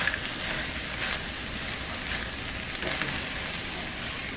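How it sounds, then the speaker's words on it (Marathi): Cashew pieces sautéing in a pan for coconut milk pulao, a steady broadband sizzle with soft stirring scrapes that holds evenly throughout, close and moderately loud, with no one talking. "आता मी काजूचे तुकडे घेतलेत थोडेसे ऑप्शनल आहेत आवडत असतील तर घाला ते घालून एक दोन मिनटं परतो या"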